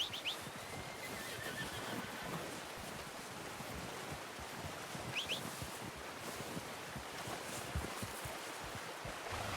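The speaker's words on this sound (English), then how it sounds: "Chamar o cavalo, né?" A horse in the Red Dead Redemption 2 game world whinnies as it approaches outdoors, with faint hoof clip-clop and rustling ambience; a brief whinny sounds early, another around the middle, over steady background noise.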